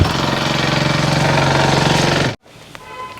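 A motorbike engine runs loud and close with a steady throbbing beat, then cuts off abruptly, leaving quieter background noise.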